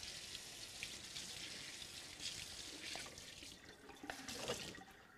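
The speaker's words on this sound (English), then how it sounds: "So now I'm going to wash my hands off." Tap water running steadily into a sink while hands are washed, a soft continuous splashing hiss with small irregular splashes as the hands move under the stream, fairly quiet and close.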